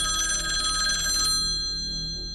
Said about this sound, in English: The landline rang.